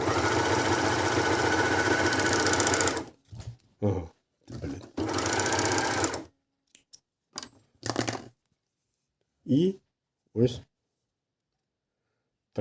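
An Elna ProLock 904DE overlock machine stitches a rolled hem in two loud, steady bursts of about three seconds each, followed by short scattered mechanical clicks and brief snips with quiet gaps between.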